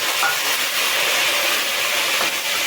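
Tomato dropped into garlic and peanuts frying in a pan, giving a steady, loud, continuous sizzle and hiss with no break, close by, without talk.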